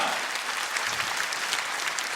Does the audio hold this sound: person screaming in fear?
no